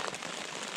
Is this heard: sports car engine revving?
no